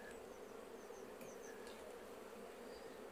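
Honeybees buzz around an opened hive during a swarm-control hive split, a steady, faint drone with a few individual bees passing nearby.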